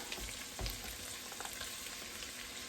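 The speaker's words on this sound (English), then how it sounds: "Right now, what I'm going to do is add my rice." Cold leftover rice fries in a hot pan with a steady close sizzle and crackle, plus a few soft stirring scrapes and no voices.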